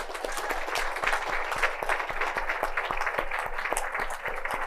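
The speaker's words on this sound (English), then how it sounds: "Let's just have a big round of applause for our Community Award winners" An audience applauds Community Award winners at a town's State of the Town event, a dense, steady wash of many hands clapping at a moderate distance, with no voices over it.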